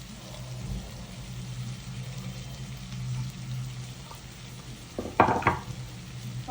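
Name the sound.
sliced onions frying with bitter gourd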